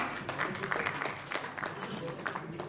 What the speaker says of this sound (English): can we have the ongoing round of applause